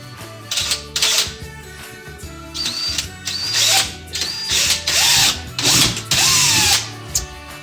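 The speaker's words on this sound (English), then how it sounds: "we're going to drill a hole in the pipe" Power drill boring a hole in the side of a drain pipe with a 1/4 inch bit during a home reverse osmosis filter install; repeated loud bursts of whining drilling, starting and stopping several times, close up with no talking.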